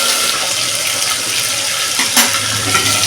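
Potato and drumstick pieces frying in a garlic tempering, giving a steady, loud, continuous sizzle throughout with a brief clatter near the end, with no talking.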